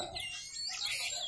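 Oriental magpie-robins sing at a crowded songbird contest, a dense, continuous tangle of bright chirps and warbling phrases heard close by.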